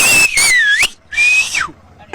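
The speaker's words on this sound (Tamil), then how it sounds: "என்ட்ரன்ஸ்ல விசில் அடிச்சு இறங்குவோம்" Two loud, shrill whistles sound at the bull entrance of the Palamedu jallikattu, each sliding in pitch, with a short gap between them; heard close and alone.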